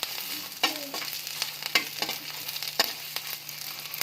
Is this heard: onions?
yes